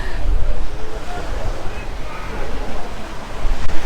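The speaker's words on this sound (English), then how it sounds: "it's got so windy." Strong wind gusting across a seaside promenade in Puerto Pollensa, Majorca, with broadband rumbling buffets of wind noise against the microphone and a wash of surf, steady throughout and swelling louder near the end.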